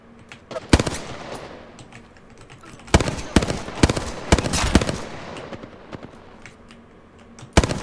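Video game gunfire in an arena shooter: sharp bursts and single shots crack out at intervals, loud and close, with a dense rattling cluster in the middle and a final burst at the end, under a faint busy background.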